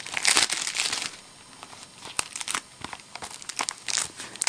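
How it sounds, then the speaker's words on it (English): Cellophane wrap being peeled off a Nintendo 3DS game box for Super Street Fighter 4, giving close, bursty crinkling and tearing crackles in several quick clusters with short pauses. "I'm gonna just remove the cellophane on this one"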